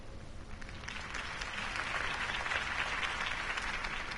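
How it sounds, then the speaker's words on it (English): Crowd applause follows a mayoral campaign speech for Harvey Dent in the Telltale Batman video game, a sustained, fairly soft clapping that swells slightly and continues throughout without speech. "could have heard that applause"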